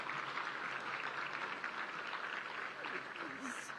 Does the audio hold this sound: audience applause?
yes